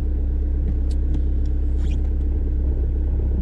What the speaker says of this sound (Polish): Nie można mieć wątpliwości, że diesel pracuje pod maską